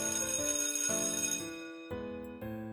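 School bell chime in a yandere visual novel game, a clear melodic sequence of bell-like tones stepping through several notes, moderately loud and ringing out alone.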